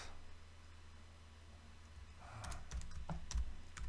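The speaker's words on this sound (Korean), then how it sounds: "이렇게 이제 타이핑을 하고 나면" Quiet room tone, then a burst of close keyboard typing with rapid, irregular key clicks and a few heavier thumps.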